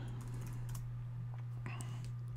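Soft keystrokes tap on a computer keyboard, a few quick clicks clustered together over a constant low electrical hum, faint and close.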